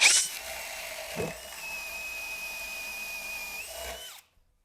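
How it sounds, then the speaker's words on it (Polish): A powerful drill with a Bosch Expert spade bit spins up and bores through pine or spruce steadily for about four seconds with a high sustained whine, then cuts off into silence. "mam naprawdę bardzo mocną wiertarkę i te wiertła łopatkowe, sosna czy świerk"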